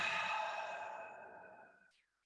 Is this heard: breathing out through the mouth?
yes